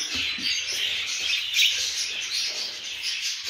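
Many parrots at a parrot farm chatter and chirp together in a dense, continuous high-pitched din, with no voices over it.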